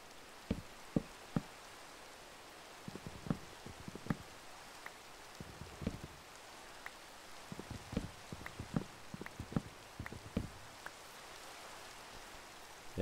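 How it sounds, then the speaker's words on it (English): Video game rain as a steady hiss with irregular close raindrop pats and taps throughout, fairly quiet and without voices. "It's gotta rain now. Out of all moments."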